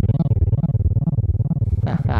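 A rapid, heavily processed guitar tone from an Eventide H9 fake-shredding preset plays fast rippling note runs with a synthetic sequenced feel, ending in a couple of harsher bursts.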